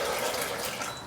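Four cups of alkaline water poured for homemade almond milk, a steady close liquid rush and splash running through the whole moment without pause.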